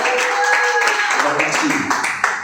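A church congregation at a Sunday worship service claps together, a short burst of dense, steady applause with a little talk mixed in.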